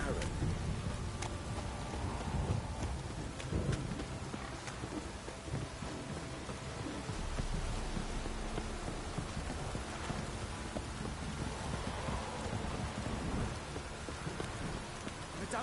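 Steady rain and rolling thunder in the Witcher 3 video game, a continuous broadband downpour with low rumbles, while a soldier-type character talks over the storm.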